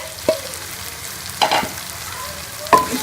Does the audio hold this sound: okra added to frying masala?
yes